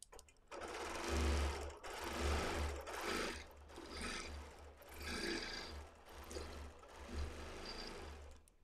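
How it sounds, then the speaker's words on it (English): A sewing machine stitches feather quilting patterns in steady runs of motor hum, briefly pausing and restarting between passes, close and fairly loud with no voices. "going to go ahead and try quilting one more time"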